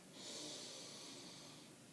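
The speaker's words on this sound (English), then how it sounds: "Deep breath." A single long, deep breath is drawn in close up, a breathy rush that swells quickly and then holds steady. No words are spoken.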